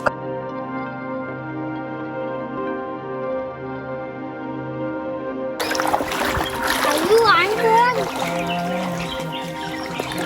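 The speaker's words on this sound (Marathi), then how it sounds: "पाण्यातच चालतोय" Feet slosh and splash through shallow water outdoors near Thakroli village in Raigad's Konkan region, loud and close, starting partway through after a steady hum, with people chattering over it.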